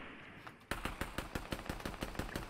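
Rapid gunfire in the Fortnite video game, a steady burst of about a dozen sharp shots starting abruptly after a quiet moment, loud and evenly spaced with no talk.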